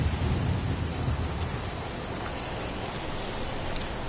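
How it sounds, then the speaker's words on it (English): Heavy rain pours steadily in a video game scene, a dense continuous roar with low thunder rumbling underneath throughout. "It's pouring rain."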